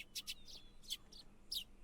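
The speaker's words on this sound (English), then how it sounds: "The chirping of birds served as my alarm clock." Birds chirp in a video game morning scene, a series of short, bright tweets in quick bursts with gaps between them, fairly faint and alone without talk.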